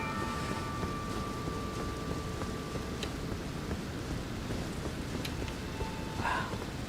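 Steady rain in Elden Ring hisses and patters throughout, a dense even wash of drops with faint distant rumbling beneath.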